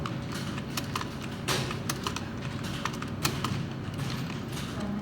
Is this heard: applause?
no